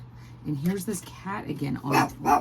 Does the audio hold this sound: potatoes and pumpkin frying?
no